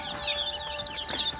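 Several chickens cluck and chirp softly in a steady chatter inside a coop, with no voices present.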